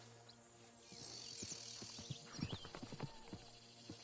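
Horse hooves clip-clop in a video game, a quiet run of uneven, closely spaced hoof knocks that grows busier toward the middle, with faint mechanical clinks alongside.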